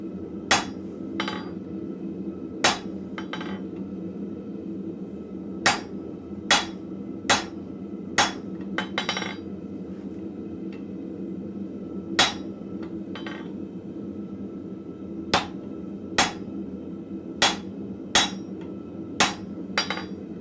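A blacksmith strikes steel tongs on an anvil, sharp metallic hammer blows ringing out at irregular intervals, sometimes in quick pairs, over a steady low forge hum with no talking.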